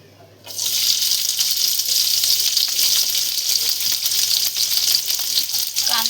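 Onion dropped into a ladleful of hot oil for a traditional Marathi besan vada curry sets off a loud, steady sizzle that starts abruptly after a brief quiet moment and keeps crackling evenly to the end.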